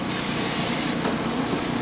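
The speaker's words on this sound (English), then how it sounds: "What I like to do is I like to take cooking spray and put it on my clean hands" A steady hissing spray of cooking spray lasts a couple of seconds, close and fairly loud, with no talking.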